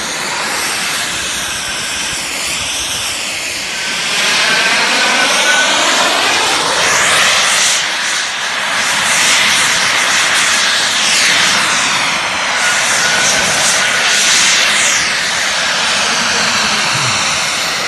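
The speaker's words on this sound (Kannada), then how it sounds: "ಮಕ್ಕಳಿಗಾಗಿ ಆಯೋಜಿಸಿದ ವಿನೂತನ ರೀತಿಯ ರಿಮೋಟ್ ಕಂಟ್ರೋಲ್ ಫ್ಲೈಟ್ಸ್ ಪ್ರದರ್ಶನವಾಗಿದೆ" A remote-control model airplane flies at a children's show on the Karavali festival grounds in Mangaluru. Its loud buzzing engine rises and falls in pitch as the plane sweeps past again and again.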